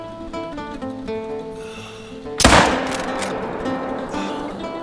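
One sharp, loud rifle shot at a red deer cracks out midway through a hunting video game set in the Cuatro Colinas reserve, ringing out over a quiet musical background.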